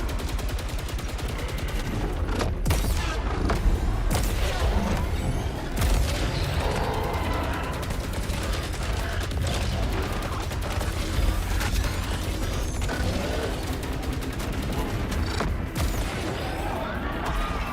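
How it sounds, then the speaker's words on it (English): Stray bullets and gunfire in the video game Saros: a steady dense wash of rapid shots and booms, with sharp cracks standing out at intervals over continuous loud action noise. "Oh, stray bullets."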